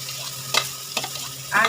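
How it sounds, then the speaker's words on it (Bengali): Small hilsa fish mash fries in oil in a pan and is stirred. Three short, close scraping strokes rise over a steady, low sizzle. "এবার আমি ভালো করে ভর্তাটা নাড়া দেবো এইভাবে"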